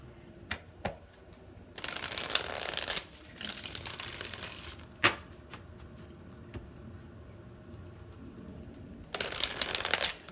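Tarot cards being shuffled in several bursts of quick riffling and flapping, with quiet taps and pauses between the shuffles, close and fairly soft, no talking.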